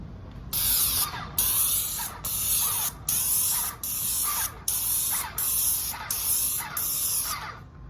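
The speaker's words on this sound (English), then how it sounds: "the reason, you know, to choose spraying over rolling or whatnot" A Titan paint sprayer hisses in about eight regular bursts, each roughly a second long with short gaps, loud and close.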